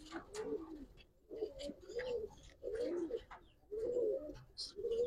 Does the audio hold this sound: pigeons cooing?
yes